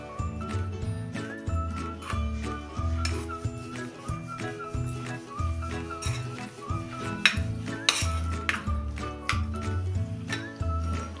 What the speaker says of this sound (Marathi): आणि हे आता एकसारखं कालवून घ्यायचं आहे